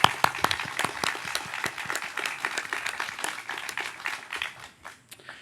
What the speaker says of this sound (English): let's give a round of applause to Julie.